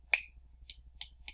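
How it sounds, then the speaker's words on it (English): Four crisp finger snaps, made with thumb and middle finger, ring out close and clear in a loose uneven rhythm against a quiet low hum, with no talking. "You put your thumb and middle finger together and you can snap."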